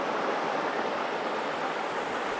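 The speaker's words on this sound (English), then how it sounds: "Beautiful little creek." Trout Lake Creek, a small creek beside a campground, flows in a steady, full rushing wash of water. It sounds close and even throughout, with no voices.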